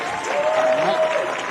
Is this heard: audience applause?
yes